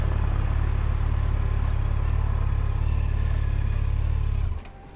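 Motorbikes run fast along a country road, heard as a steady, loud engine drone that holds for most of the clip and then cuts off abruptly near the end. No one speaks.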